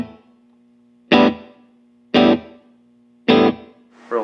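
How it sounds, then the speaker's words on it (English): An electric guitar played through a Rocktron Cyborg digital reverb pedal on a simple, light reverb preset: three separate loud strummed chords about a second apart, each followed by a short ringing tail, with a fourth starting at the end. "The first one I kind of made is like just a simple reverb."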